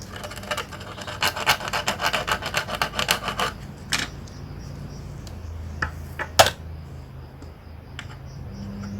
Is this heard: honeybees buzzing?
no